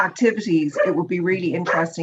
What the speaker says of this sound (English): You can hear my dog in the background joining in.